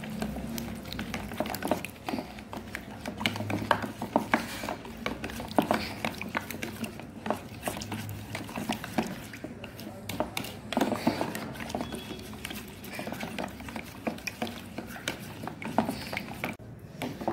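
An oil, vinegar and lemon juice marinade for mackerel being stirred steadily in a bowl, a soft continuous wet swishing with faint clinks, close and quiet.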